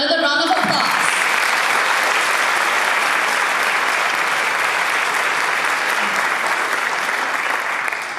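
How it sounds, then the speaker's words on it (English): Loud sustained audience applause for dancers at a Chinese New Year performance, dense clapping that continues steadily for about eight seconds after a brief opening moment. "So let's give them another round of applause"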